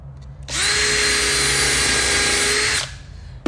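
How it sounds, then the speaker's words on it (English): A handheld power drill pre-drills a hole through pieces of wood held together for screwing, a single close, loud whine that spins up, holds steady about two seconds, then stops. "So what I can do is hold my pieces together and I can pre-drill so that I can screw them together."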